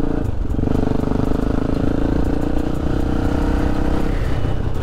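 A motorcycle engine idles and runs steadily up close, a loud continuous rumble with a mechanical clatter that holds evenly from start to finish, with no talking.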